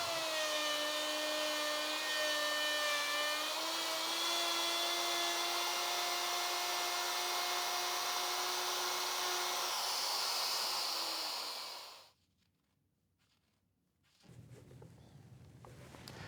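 A router on a router table cutting a dado in shallow passes whines loudly and steadily with a slowly dropping pitch, then winds down and stops, leaving brief quiet before faint workshop noise returns.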